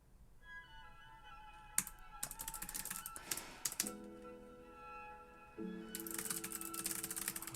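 Typing on a computer keyboard: quick clusters of light clicks and taps in uneven bursts, close and fairly quiet, over a soft steady tonal background.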